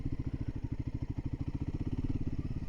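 Royal Enfield Himalayan 450 motorcycle engine pulsing as the throttle is rolled on and off, a steady rapid low thump of the single-cylinder beat rising and easing, close and clear with no talk.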